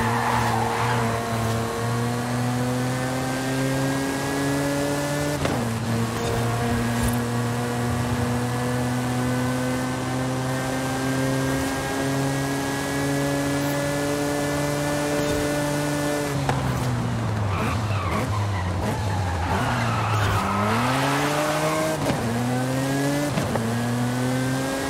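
A 2017 Ford GT engine in the video game Forza Horizon 5 drones steadily, its pitch climbing and falling through gear shifts and revs, loud and continuous with no talking.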